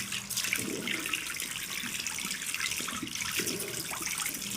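A faucet runs steadily while someone washes their face at a sink, giving a continuous close hiss of flowing water with faint splashes throughout.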